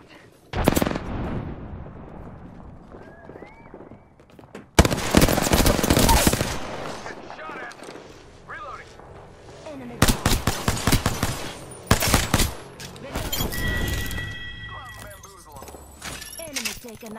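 Bursts of rapid automatic gunfire in an Apex Legends squad match, loud and close, coming in several separate volleys with gaps between them while players talk over the fighting.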